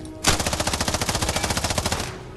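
Automatic gunfire in the mobile shooter ScarFall 2.0, a single rapid burst of about twenty evenly spaced loud shots lasting roughly two seconds, close and alone.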